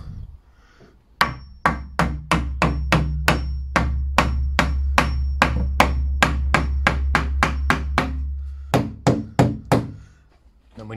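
Sharp hammer blows strike timber in a quick, regular series, each a crisp wooden thwack, with a short pause before a final few strikes.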